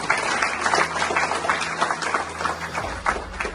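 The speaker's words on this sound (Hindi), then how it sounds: "जोरदार तालियां" A crowd at a felicitation function applauds steadily, dense clapping filling the whole stretch at moderate loudness, with a low hum running underneath.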